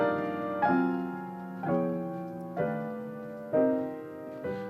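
Jazz piano chords in a minor key, five sustained voicings struck about once a second, each ringing and fading before the next, played alone and close.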